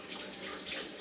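Water runs from a tap as onion juice is rinsed off fingers, giving a steady, close splashing rush with small shifts as the hands move under the stream.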